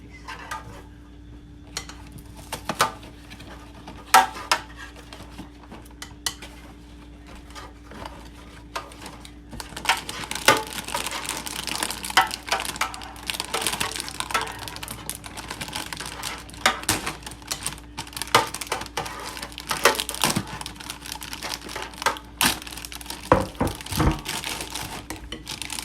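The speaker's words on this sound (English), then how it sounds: "Open those cookies." A package of cookies is torn and crinkled open in a home kitchen during banana pudding prep, with close crackling rustles and sharp plasticky bursts that build and keep going, no voices.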